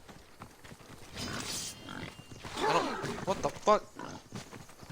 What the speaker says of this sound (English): Damn pig.